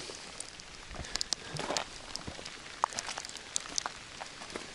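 Rain patters steadily on stone surfaces among the ruins of Drakopoulata on Kefalonia, with a scattering of sharper drip ticks over a soft continuous hiss, with no voices.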